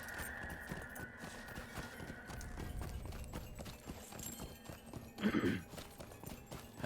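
Horse hooves clip-clop in a steady walking rhythm in Lord of the Rings Online, close and moderately loud, with a brief louder burst of movement near the end.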